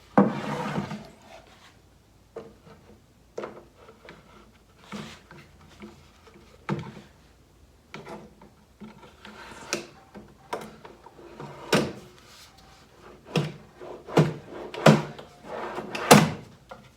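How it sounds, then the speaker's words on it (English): A wooden drawer is worked into a handmade nightstand, giving repeated sliding rubs, knocks and sharp wooden clunks at irregular intervals, with some quieter stretches between. "let's put in the top drawer."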